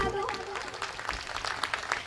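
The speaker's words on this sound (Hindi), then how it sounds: "अब अगर थोड़ी बहुत तालियां बजी हो तो हमारे लिए भी बजा दो" Audience applause rises as a dense, steady patter of many hands clapping, moderately loud and sustained throughout, with faint voices mixed in at the start.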